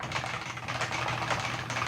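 Fast, light keystrokes patter on a Realforce variable-weight mechanical keyboard, a continuous soft clatter of many closely spaced clicks, quiet and close with no voices.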